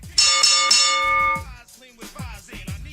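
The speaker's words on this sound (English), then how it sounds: "Ring the bell. Ding, ding, ding." A bright bell rings three quick times in a row on a sports-picks talk show, each strike overlapping as the tones ring on and fade. Voices follow right after.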